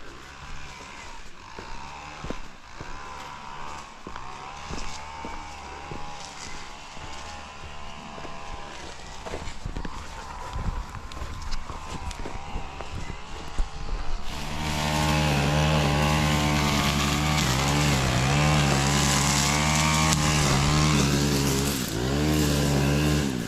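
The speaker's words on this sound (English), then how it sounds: "all indications seem like somebody is mowing the grass out here." A mower cutting grass along the Appalachian Trail drones steadily, a buzzing motor that grows louder and closer partway through, with rustling and footsteps nearby.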